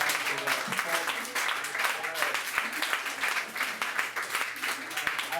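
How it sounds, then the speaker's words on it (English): Audience applause after a tribute performance at an event, a full, dense round of clapping from a sizeable crowd that holds steady throughout. "Another round of applause for that performance."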